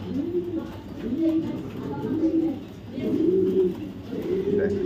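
Pigeons coo in a repeated rolling rhythm, several soft throaty phrases following one another at close range, with a faint voice in the background.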